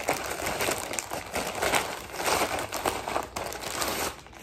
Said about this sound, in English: I really should have brought some scissors in here, because tearing these packages open.